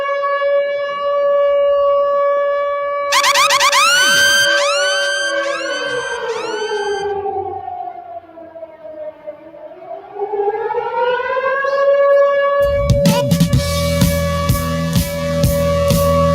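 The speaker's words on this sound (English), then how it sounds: "I guess that siren threw them all." A loud siren wails, its pitch sliding down and back up in long sweeps, with a burst of other tonal sound near the end.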